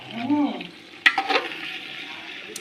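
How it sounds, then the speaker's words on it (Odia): Fish fries in a pan with dal as it is stirred, giving a steady low sizzle broken by a few clattering scrapes of the spoon. A voice speaks briefly at the start. "ମାଛ ପଡ଼ିକିରି ଫେର କଷା ଆରମ୍ଭ ହେଇଗଲା।"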